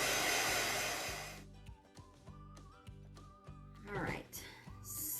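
A hair dryer roars loudly for about a second and a half while drying a painted wooden bird house, then cuts out, leaving a quieter hum with faint noises.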